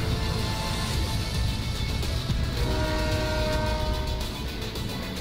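A train rumbles past in the video game American Dream, heavy rolling rail noise running the whole time with sustained horn blasts sounding over it, loud and near.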